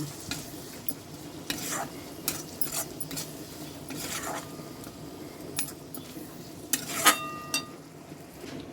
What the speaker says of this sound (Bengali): এবার টক দই দিয়ে দিয়েছি দিয়ে ভালো করে একটুখানি আমি নেড়ে নেব